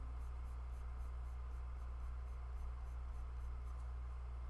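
A white pencil moves across paper in steady, faint scratching strokes, set against a constant low background hum, with no one speaking.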